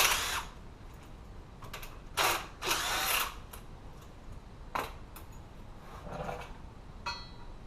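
Power tool bursts while removing transmission bolts on a John Deere JD2210 compact tractor, several short whirring spurts separated by pauses, close and moderately loud with no talk.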